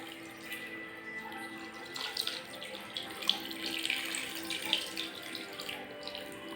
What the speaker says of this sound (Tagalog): lagyan po natin siya ng toyo